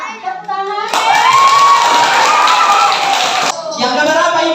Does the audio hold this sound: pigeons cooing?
no